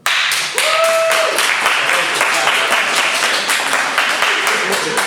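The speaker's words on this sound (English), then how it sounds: "So let's say claps for Hansel and Gretel." Dense crowd applause and clapping at an improv comedy show fills the room steadily for several seconds, loud and sustained, with a few voices and whistles mixed in.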